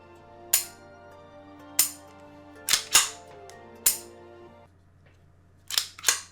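A YEET Cannon toy gun fires a series of sharp, loud snapping shots, six in all, spaced irregularly with two close pairs, over a steady low hum and no talking.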